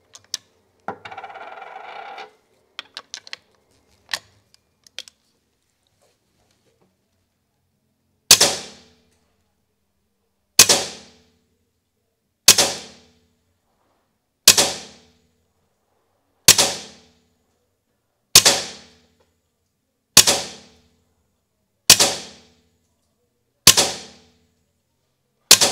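A Taipan Slash air rifle fires test shots: a few scattered clicks and handling noises, then about nine sharp, snappy reports spaced roughly two seconds apart, each ringing briefly before the next.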